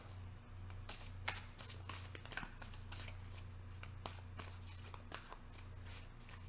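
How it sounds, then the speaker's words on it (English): Rapid, crisp riffling and slapping of a deck of tarot cards being shuffled repeatedly, close and fairly quiet, over a low steady hum. "One more shuffle."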